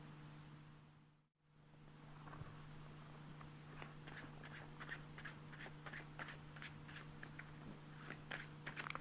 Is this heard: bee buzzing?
no